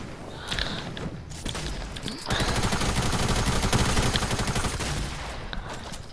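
Pistol gunfire in a video game: a few scattered sharp shots, then a dense rapid burst of repeated cracks lasting several seconds, with mechanical clicks around it.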